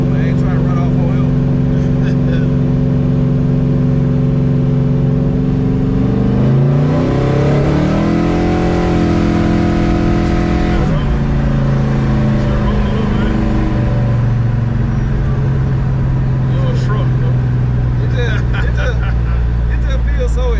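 An LS-swapped Chevy S10 pickup roars very loudly, its engine rumbling heavily and surging through a couple of hard revs, with a deep, continuous exhaust drone heard close from inside the cab.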